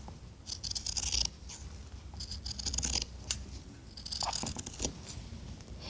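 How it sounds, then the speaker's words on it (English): Fabric scissors snip through a suit jacket sleeve and its interfacing in several close, crisp bursts of crunching, slicing sound with short pauses between cuts. "We're cutting through the fabric and the interfacing."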